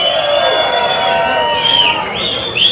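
Crowd at the Canelo vs Charlo boxing event at the MGM Grand, Las Vegas, roaring and cheering loudly and steadily throughout, with whistles and shouts rising near the end.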